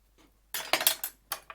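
Knife forced through a hard raw quince, a few sharp, crunchy cuts and scraping clicks of blade against the firm fruit and board, close and loud with short pauses between, no talk.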